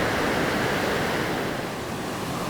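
Ocean waves wash steadily onto a beach in Trujillo, Peru, a continuous loud roar of surf with no breaks and no voices.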